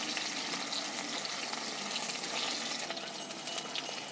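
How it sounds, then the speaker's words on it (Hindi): Banana pieces frying in a pan until brown: a steady, bright hiss and crackle of sizzling oil that stays even and continuous throughout, with no talk. "जब तक ये ब्राउन नहीं हो जाता तब तक हम इसे फ्राई करते रहेंगे"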